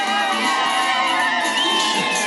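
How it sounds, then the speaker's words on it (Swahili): A dense crowd at a Kenyan presidential declaration event ululates and cheers loudly and continuously, with high trilling voices layered over shouting. "Wapi vigelegele?"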